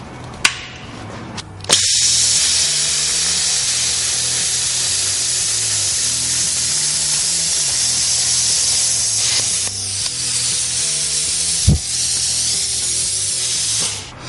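A Hypertherm Powermax45 XP plasma cutter runs its compressed-air post-flow, a steady broadband hiss of air that holds for about fourteen seconds, with a couple of sharp clicks near the start and later on.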